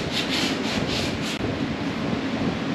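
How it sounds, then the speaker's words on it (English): Sandpaper of 40 grit taped to a metal ruler rubs back and forth through a gap in a new bed floor for a 1957 GMC, producing a close, continuous rasping scrape with several quick strokes at the start, then a steadier grind. "I have this metal ruler and I put some tape on it. I mean, some 40 grit on it. And then I just sand the gap"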